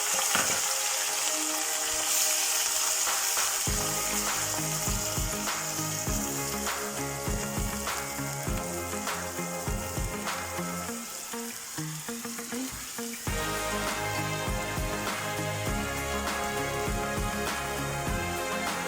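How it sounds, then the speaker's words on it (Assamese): Onions fry in a pan with whole spices and bay leaves for chicken biryani, making a continuous sizzle with repeated clinks and scraping from stirring, steady and close, with no talking. "এতিয়া মই পিঁয়াজখিনি ভাজি দিছোঁ"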